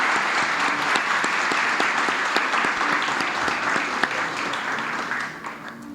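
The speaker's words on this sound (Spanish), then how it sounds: "vamos entonces con este aplauso a agradecer a Pablo" Audience applause at a conference session, a dense, steady wash of clapping hands that holds for several seconds and tapers slightly at the end, with no voices over it.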